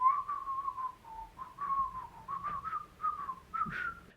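A person whistles a wavering melodic line of short phrases during a traditional folk ballad, clear and fairly close with no accompaniment.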